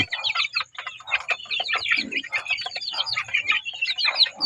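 Young chicks at evening feeding time, a busy brood of cheeping birds whose dense, overlapping high peeps and chirps run continuously and close by, with no talk over them.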